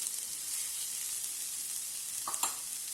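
An onion and gram flour stuffing with grated ginger and a pinch of hing fries in a pan, giving a steady close sizzle with a brief stir near the end and no voices.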